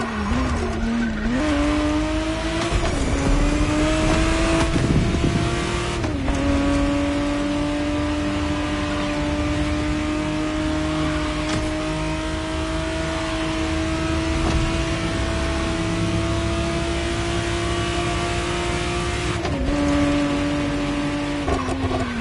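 A 1991 Ferrari Testarossa 512 TR in The Crew Motorfest holds a loud, sustained engine drone, with revs rising and shifting in steps and brief dips at gear changes, running continuously without talk.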